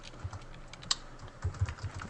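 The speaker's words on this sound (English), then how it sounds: "you'll hear some keyboard tapping on this show" Keyboard typing from a Second Life chat session, a quiet, irregular run of close soft key taps with a few sharper clicks, heard alone without talk.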